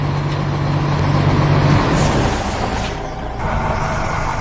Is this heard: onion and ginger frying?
no